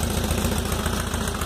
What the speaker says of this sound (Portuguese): Falaram pra mim que ele tá dando esses pipoco porque eu instalei errado o escapamento